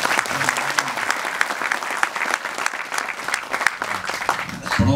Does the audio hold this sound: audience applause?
yes